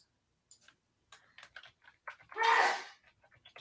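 A single loud sneeze bursts out near the mic, preceded and followed by soft scattered clicks and small sounds during a quiet stretch of a podcast conversation.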